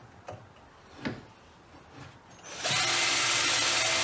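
A power drill bores 5.5 mm holes through the back of clamped pieces for a seat box trolley build; a few light knocks come first, then the drill starts abruptly and whines steadily, loud and close.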